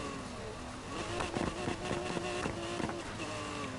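Twin-turbocharged V12 sports car in Need for Speed Heat revs with a steady engine drone, rising and wavering pitch as it accelerates through shifts, loud and close with no voices over it.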